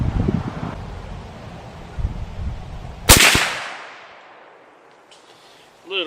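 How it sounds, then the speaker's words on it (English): A single loud, sharp gunshot from a CVA Scout rifle chambered in .45-70 Government, fired outdoors, with a quick rolling decay after the blast over soft background rustle. "But let's shoot another one."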